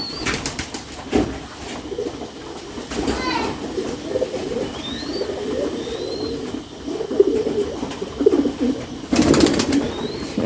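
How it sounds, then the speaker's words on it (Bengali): Soft coos from a native dove chick drift over a busy outdoor backdrop of children's voices and chatter, with a few high bird chirps. "আমাদের দেশি ঘুঘু বাচ্চাটা"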